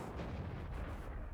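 Dense, continuous low rumble of artillery fire and blasts in the World of Tanks video game, loud and sustained without any clear separate shots.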